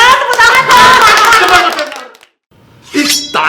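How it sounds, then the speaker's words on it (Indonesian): Children at a Sunday school lesson clap their hands in a brief burst of close, fast claps mixed with voices, fading into a short silence before speech resumes. "Ya, tepuk tangan dong."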